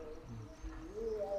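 A male white Indian Madrasi pigeon, a high-flying breed, gives soft low coos, one brief call early and a longer rising and falling coo near the end, close by and fairly quiet.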